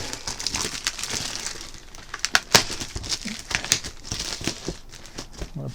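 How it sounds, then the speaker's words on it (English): Plastic wrapping pulled and crumpled off a new DeWalt DWS535B worm drive circular saw, a steady close-up crinkling and crackling with sharp tearing snaps scattered throughout. "let's get the plastic off of it"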